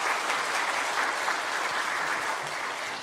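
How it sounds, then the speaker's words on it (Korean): A church congregation claps together at an anniversary Sunday service, a dense, steady wash of applause filling the room at full strength for the whole stretch without pause. "하나님께 영광의 박수 올려드립니다"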